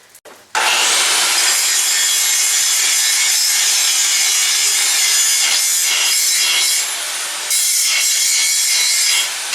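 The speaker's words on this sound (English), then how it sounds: "Do a little bit of grinding up there." An angle grinder takes a burr off metal on a cultipacker being converted to three-point hitch, a loud, close, harsh continuous grinding that starts abruptly and runs for about nine seconds with brief dips in pressure.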